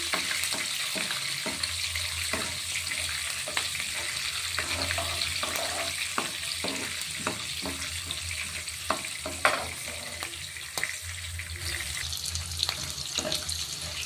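Green chillies, curry leaves, urad dal and chana dal frying in oil for an onion palya, giving a continuous close sizzle with scattered crackles, pops and occasional stirring scrapes.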